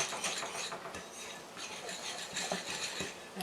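A Dutch dough whisk stirs bread dough in a bowl for homemade egg bread, giving steady scraping, clinking strokes that run continuously at close range with no talk.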